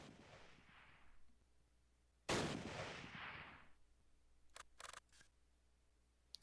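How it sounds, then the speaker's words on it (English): Gunfire in the WWII strategy game Close Combat: Last Stand Arnhem, one loud sharp shot followed by a decaying echo and then a few quicker, fainter cracks, set against quiet background noise. "I hear shots."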